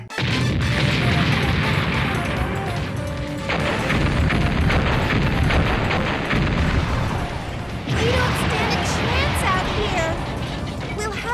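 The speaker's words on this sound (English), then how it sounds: "All board cannons, prepare to fire!" Ship cannons fire in a Mega Man Legends battle, a dense run of booms and crashes under a continuous roar of game effects and music, with a short lull partway through.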